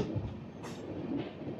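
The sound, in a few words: passenger special train running on rails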